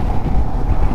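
Strong mountain wind buffets the microphone in a loud, low, gusty rumble for a brief moment, with no speech over it.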